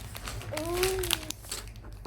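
Crinkling plastic wrapping as a child's surprise toy package is opened, a soft rustle running through the clip with a voice over it.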